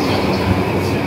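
Train at a station in Japan, a loud, steady rumble of rolling wheels and engine noise filling the short moment, with people speaking faintly beneath it.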